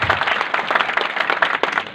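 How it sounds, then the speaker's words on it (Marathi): An audience at a film trailer launch event in Kundalwadi town claps in a brief, dense burst of applause, many hands slapping at an even level for about two seconds. "टाळ्या वाजवा जोरात."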